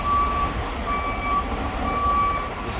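A truck backing in off the street toward a tight dock sounds a steady series of high, evenly spaced reversing beeps over a low engine rumble, with no talk.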